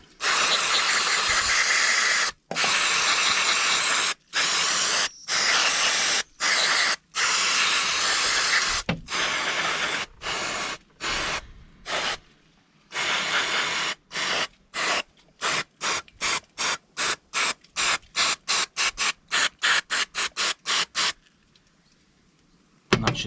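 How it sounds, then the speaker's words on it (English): Aerosol parts cleaner hisses onto a Stihl MS200T chainsaw in long loud bursts that become a rapid string of short sprays toward the end, close up with no talking. "So I've just got some basic part cleaner here, aerosol, and we'll just hit it a few times."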